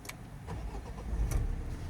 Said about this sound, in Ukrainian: Зараз я ще його заведу. Буде одразу чутно роботу.